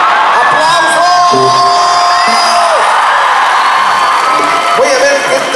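A loud crowd at a fair concert cheers, whoops and yells continuously, with voices shouting over a steady wash of noise and musical tones in the background.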